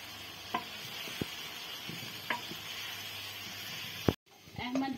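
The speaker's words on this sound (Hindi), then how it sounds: "चिकन हमारा अच्छे तरीके से फ्राई हो गया है और जो मसाला है उसमें ला रहे हैं" Fried chicken going into sizzling masala in a pan, a steady hissing sizzle with a few sharp knocks, then a sudden cut and a brief burst of clatter near the end.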